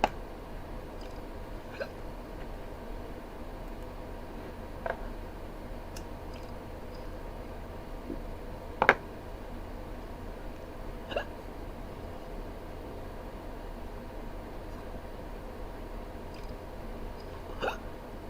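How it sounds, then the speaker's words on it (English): Hiccups come from a person at intervals of a few seconds, each a short, sharp catch over a quiet background hum, with one clearly louder hiccup in the middle and no talk. "Now I got the fucking hiccup."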